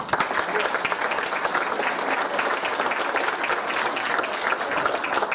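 A conference audience gives steady, dense applause for historian and curator Alejandro Rosas before his lecture on the Mexican Revolution, even and sustained at a moderate level throughout.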